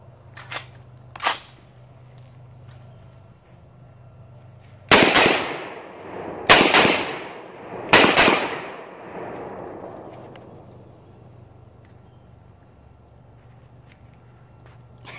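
Gunshots from a gun at a shooting range: three loud, sharp reports a second or two apart, each with a long decaying echo, after a couple of fainter clicks and handling noises.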